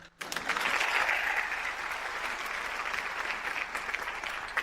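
Audience applause at a Pakistan Army stage show as a colonel is invited up: after a brief pause, dense clapping from a crowd starts abruptly and holds steady for several seconds, moderately distant.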